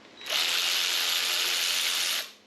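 A power tool spins out a bolt from a Ford 289 V8 engine during a teardown in one steady, loud whirring burst lasting about two seconds, close by and alone.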